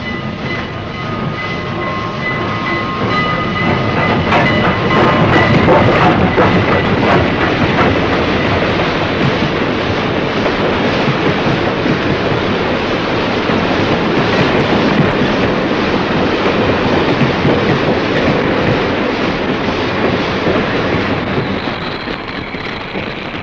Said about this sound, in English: a train coming into the station. And the sound, too, is familiar.